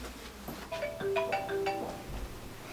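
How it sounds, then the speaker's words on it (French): A phone placing an outgoing call gives a short electronic ringback melody of several beeping tones, fairly quiet against low background rumble, with no speech. "je vais juste aller passer un coup de fil très rapidement à Maria"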